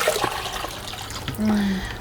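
Water is poured into a cooking pot while making karyn burme, a splashing, gurgling stream that swells toward the end.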